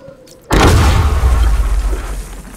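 A sudden loud, booming explosion in Batman: Arkham Knight bursts in after a brief quiet, followed by a deep rumbling roar that slowly fades.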